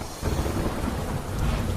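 Heavy downpour in Uttarkashi that flooded homes and shops, a dense, continuous roar of rain with low rumble, steady and loud, no voices.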